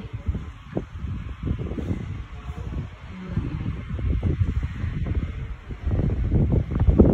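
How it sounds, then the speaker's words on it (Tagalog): Wind buffets a microphone in uneven, rumbling gusts that grow stronger toward the end, with no voices. "Ang hangin."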